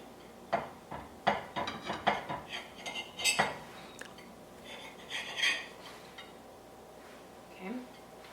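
A knife and fork cut through French toast on a plate, with a quick run of close clinks and scrapes early on, then quieter, sparser taps of metal against the dish.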